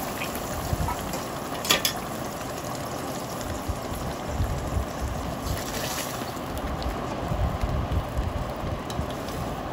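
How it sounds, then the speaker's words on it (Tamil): Marinated chicken and ground masala sauté in a pan, giving a steady, soft sizzle and crackle close by, with a few brief clatters and no one speaking. "அது கூட நம்ம மேரினேட் பண்ணி வச்சுருக்க சிக்கனும் ஆட் பண்ணி நல்லா வதக்கிக்கோங்க"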